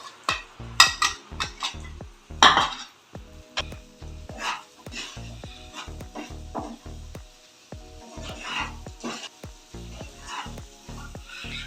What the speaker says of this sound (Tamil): இப்போ நம்ம எடுத்து வச்ச இந்த பாவைக்காவை அதோட போட்டு நம்ம வறுத்து எடுத்துக்கிடுவோம்.